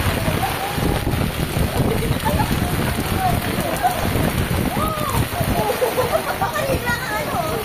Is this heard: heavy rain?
yes